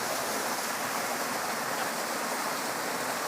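A small forest stream in elephant country rushes with a steady, dense hiss of flowing water, loud and unbroken like heavy rain, with no voices.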